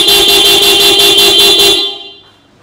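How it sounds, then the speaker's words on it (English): A motorcycle fitted with an SUV-type car horn sounds one loud, close, sustained blast lasting nearly two seconds, then cuts off abruptly into silence. "Ito yung aking motor na ang busina ay pang SUV."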